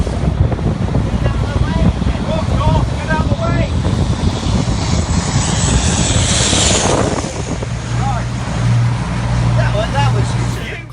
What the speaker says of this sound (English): they almost got front-ended by an airplane